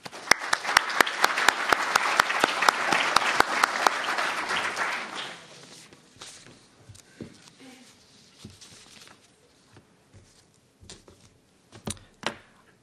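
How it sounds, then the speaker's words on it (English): A room of listeners applauds to greet a panel on open government on the internet, loud dense clapping for about five seconds that thins to a few scattered claps and fades. "if I could please greet our panel with a round of applause"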